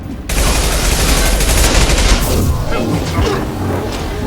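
Heavy gunfire in Mass Effect 2 during a recruitment mission, a loud, dense barrage of rapid shots and impacts starting abruptly and continuing throughout, thinning slightly toward the end.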